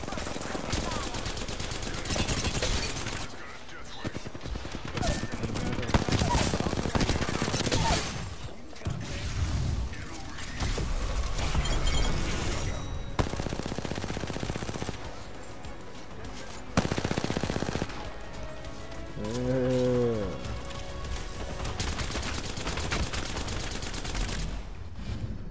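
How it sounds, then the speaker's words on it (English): Gunfire in the video game Apex Legends, repeated loud bursts and rattling automatic shots over a dense, noisy battle mix, with a person talking at times and a brief rising tonal effect near the end. "Shots fired, and they're hitting me."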